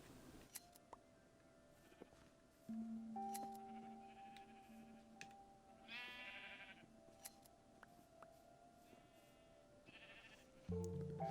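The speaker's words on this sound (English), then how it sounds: "Can you stand dead still and shear a sheep?" Minecraft sheep bleats sound several times in short bursts as a sheep is sheared, mixed with clicks, electronic tones and a steady background hum, with no talking.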